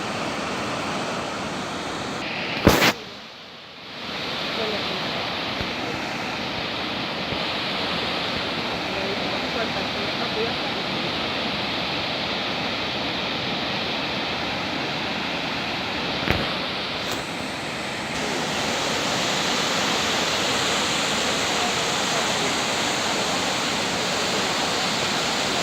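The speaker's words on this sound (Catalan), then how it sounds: "Veu com cau l'aigua." Water pouring steadily from an artificial waterfall where an irrigation ditch empties into the Serpis river, a continuous, even rushing roar that carries on for the whole stretch, broken only by a brief dip early on.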